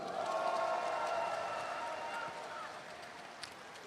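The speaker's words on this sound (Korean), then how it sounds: "박수를 부탁드립니다" A large audience at a party convention applauds in a broad, dense wash of clapping that fades slowly, heard from a distance in a hall.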